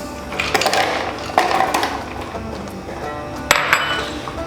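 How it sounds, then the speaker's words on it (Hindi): Ice cubes dropped into a Rooh Afza yoghurt lassi, giving several sharp clinks and rattles at close range, with bursts near the start, middle and end and no talking. "Ice cube."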